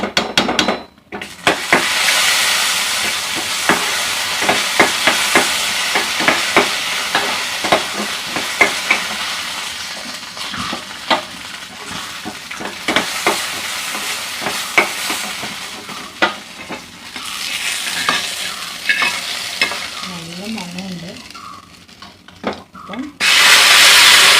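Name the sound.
cashew nuts frying in ghee in a pan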